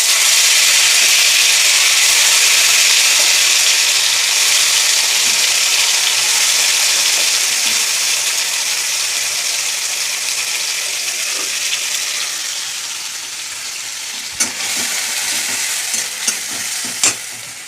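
Onion and tomato paste hitting hot oil with fried bay leaf and chilli, a loud, close hissing sizzle that gradually softens, followed near the end by a few sharp stirring knocks.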